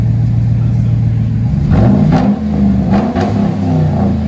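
A 2011 GMC Sierra 1500 pickup with a 5.3L V8 and dual straight-pipe exhaust rumbles at a steady idle, then revs up several times in quick, loud, close blips before settling.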